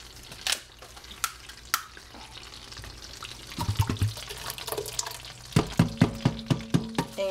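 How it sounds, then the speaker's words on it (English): Sauce being poured from a pan into a big stock pot while making spaghetti, giving soft liquid glugs and drips, with several clunks and taps of cookware near the end. "I can pour the sauce in now into my big stock pot"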